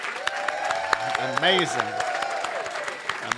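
An audience claps steadily for the storytellers at a live storytelling show; a brisk run of hand claps fills the room while a voice speaks over it.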